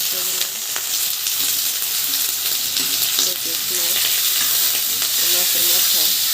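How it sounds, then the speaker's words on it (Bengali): Onions and whole cumin seeds fry in hot oil, a loud, steady sizzle with occasional stirring scrapes throughout. "তো পেঁয়াজ ভাজা নিতেছি"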